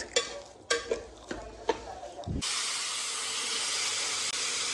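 Jaggery is dropped into a hot pan at home and hits with sharp spits and pops. Then a loud, steady hissing sizzle takes over and keeps going at an even level.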